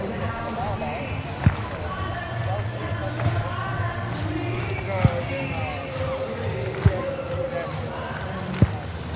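Stadium crowd at a Savannah Bananas versus Party Animals baseball game, clapping and cheering in a broad roar punctuated by sharp periodic beats, while an announcer's voice talks over the noise.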